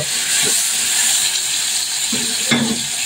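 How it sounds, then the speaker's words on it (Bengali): Loud, steady sizzle of onions frying with garlic and ginger paste in a pan, with a few low scraping strokes as the mixture is stirred. "এখন পেঁয়াজের সাথে খুব ভালো করে মিশিয়ে নিব"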